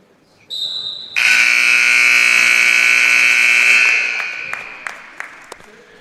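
Electronic buzzer sounding loud and steady for about three seconds at the end of a period in a high school wrestling dual meet, with gym crowd noise and scattered thuds as it fades.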